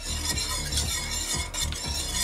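A whisk beating a liquid garlic white pizza sauce, Alfredo style, in repeated quick strokes against the pot, fairly loud and rhythmic over a continuous background hiss.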